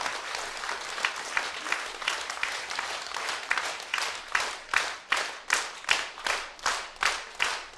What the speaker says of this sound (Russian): Прекрасные аплодисменты нашему гостю. Бурные аплодисменты.